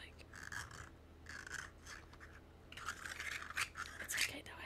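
Scratching and rubbing on a rough-textured ASMR prop that keeps catching and sticking, heard as bursts of close, soft rasping strokes separated by brief pauses.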